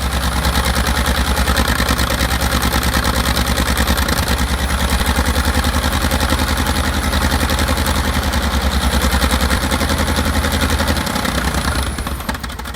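A 29.3-liter V12 engine from an M48 Patton tank, rated over 800 horsepower, runs loud and steady with a dense, rumbling, clattering drone throughout, easing off slightly at the very end.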